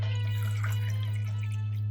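Water poured steadily from a measured 400 ml portion into a pot for making hotel-style rasam, a continuous close splashing trickle with no talk.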